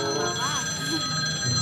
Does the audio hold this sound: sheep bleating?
no